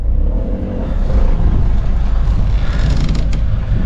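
A car engine labors and revs steadily while hauling a magnet-fishing line out of the water, a loud, close, continuous rumble with creaking strain building toward the end.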